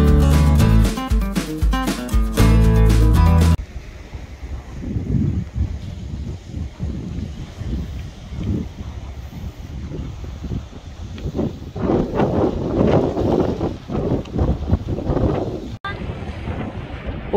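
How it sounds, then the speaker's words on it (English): Strong wind gusts buffeting the microphone on the pier at Grand Marais on Lake Superior, rumbling and surging in waves after brief music at the start, loudest toward the end. "Don't get blown away by these massive gusts."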